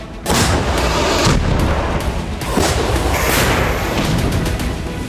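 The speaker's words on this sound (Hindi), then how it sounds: "ज़ेपोरिजिया में न्यूक्लियर पावर प्लांट के पास ड्रोन से कई धमाके हुए" Repeated heavy blasts from drone strikes near the Zaporizhzhia nuclear power plant, a series of loud booming detonations with rumbling, crackling tails rolling through the whole span, with no talking.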